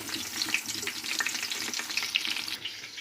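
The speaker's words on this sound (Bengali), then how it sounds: "দুটা বেগুন ফ্রাই করে দিচ্ছি" Eggplant slices fry in a hot pan with a steady, dense sizzle and crackle throughout, close and fairly loud, with no talking.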